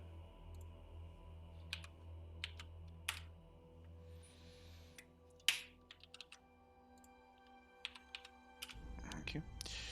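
Someone types on a computer keyboard in a workshop, producing sparse, quiet keystroke clicks spread over several seconds. A single sharper knock lands midway, and a voice and louder noise come in near the end.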